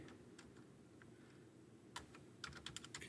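Computer keyboard typing during CNC router programming, a near-silent stretch with faint ticks giving way to a late burst of sharp, close key clicks over a low hum.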